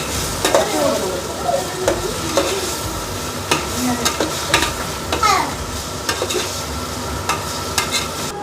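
Mint fries in a pan for veg biryani with a continuous sizzle. A spoon scrapes and clinks against the pan in repeated stirring strokes, and a voice is heard faintly at moments.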